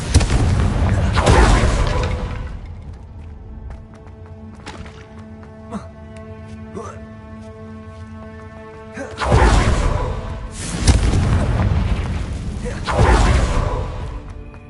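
Two rounds of the Confringo fire spell in Hogwarts Legacy erupt as loud, deep booming blasts with whooshing roar, separated by a quieter stretch of game effects and faint tones.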